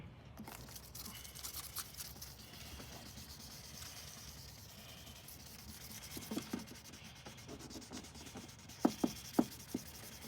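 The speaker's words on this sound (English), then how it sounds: "Gonna just kind of keep sanding a little bit." Soft, steady rubbing and scratching of hand sanding a 1998 Lexus headlight lens with a Turtle Wax restoration kit, quiet and close, with a few sharper scrapes near the end.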